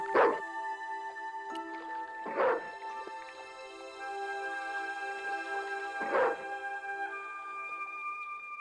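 A guard dog in the video game Broken Sword 2 gives three separate barks, spaced a few seconds apart over a steady tonal game music bed, clear and fairly close.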